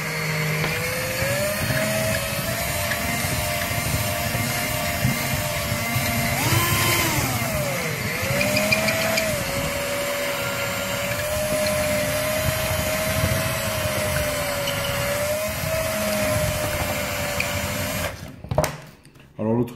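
A power drill with a fairly large bit bores a hole in a steady whirring drone that rises and dips in pitch as pressure changes, running continuously before stopping abruptly near the end.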